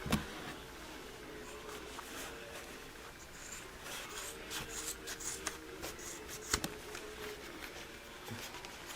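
Scissors cut through fabric just above a line of stitching, making faint close-up snips and rustles at an uneven rhythm, with a few sharper clicks.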